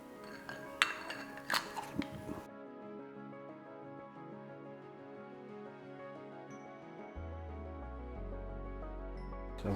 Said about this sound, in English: This is our ring compressor.